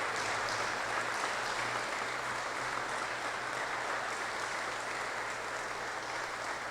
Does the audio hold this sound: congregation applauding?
yes